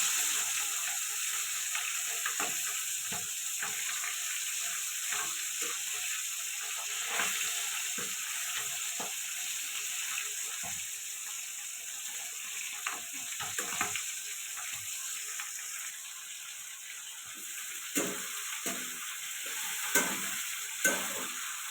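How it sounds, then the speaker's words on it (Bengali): Rohu fish frying in hot oil for a cauliflower and potato curry, a steady close sizzle with scattered spatter crackles and scraping stir sounds throughout, no voices. "মাছটা ভাজা হয়ে গেছে"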